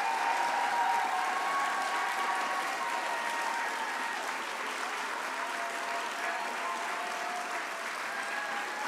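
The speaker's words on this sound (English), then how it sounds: "The applause you gave me, teachers, can you please stand, and let's just make sure that you get your applause." An audience gives sustained applause to standing teachers at the Soapbox Nation Mainstage 2023 civic event. The clapping is dense, even and continuous from start to finish, with a large hall crowd.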